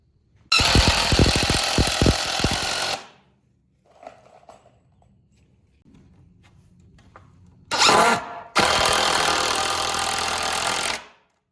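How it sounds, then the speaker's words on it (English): Screws are driven into a plywood workbench with a power driver in two long, loud, close bursts of whirring, separated by a quiet stretch of faint handling noise and a short rattle. "So we're gonna screw that together now."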